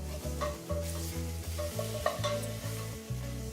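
A spoon stirs demi-glace into a sizzling sauce in a copper pan, with a steady frying hiss under short rhythmic scraping strokes, close and fairly quiet.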